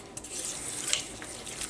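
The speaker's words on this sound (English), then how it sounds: "So we're going to go ahead and mix this up real good." A BBQ recipe mixture with garlic powder being stirred, a steady close scraping, swishing texture lasting a couple of seconds without talk.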